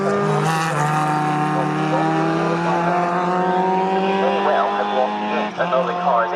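Sports 2000 race car at Snetterton, engine note climbing and holding loud and close while the car goes off the track, with other engines and a commentator talking over it.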